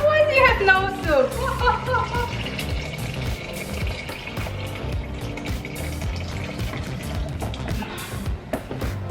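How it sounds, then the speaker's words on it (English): Water runs into a soup pot for Taiwanese beef noodle soup, a steady pouring and filling sound that continues under talking voices and some background noise in a home kitchen. "just fill up your pot with water"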